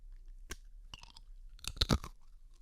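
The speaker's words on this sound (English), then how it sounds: "Wow, that sounds crunchy. It's quite crunchy." Crunchy cracker made from insects and seasoned with herbs and spices being bitten and chewed close up, with a few sharp crisp crunches and breaking snaps in quiet surroundings.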